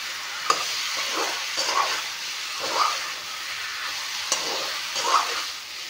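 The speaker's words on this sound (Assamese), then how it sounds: "অলপ টাইম ভাজি ল'ম।" Chicken pieces frying in a pan with bay leaf, a steady soft sizzle broken by several brief stirring scrapes and clinks at irregular intervals.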